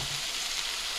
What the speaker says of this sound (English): put some oil in the frying pan, and I'm just going to cook up the chicken first